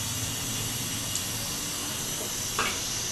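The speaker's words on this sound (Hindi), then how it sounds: "चूल्हा ऑन, हमारे चूल्हे का बहुत शोर आता है ना जी।" A noisy gas stove burner in a home kitchen gives off a steady, loud hiss that holds unchanged throughout, with a couple of faint clinks breaking through near the end.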